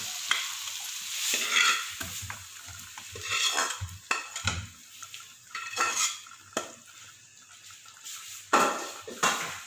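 Butter chicken gravy and fried chicken pieces being stirred together in a pan, a utensil scraping and clinking against the metal in irregular strokes over a soft sizzle, close and moderately loud with no talking.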